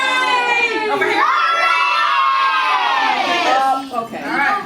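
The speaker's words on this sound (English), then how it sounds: "Next one, we got a cheer." A group of children at an interactive stage play shout a loud, drawn-out cheer together. Their voices overlap in a high, excited crowd sound that stays strong for several seconds, then breaks up.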